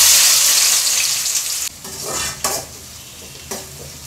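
A cup of small shallots frying in hot oil in a kadai: a loud bright sizzle that fades after a couple of seconds, broken by a few scraping stirs and metallic clinks.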